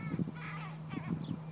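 Crows cawing nearby in a short burst of harsh, repeated calls, a few rough caws in quick succession over a steady low hum.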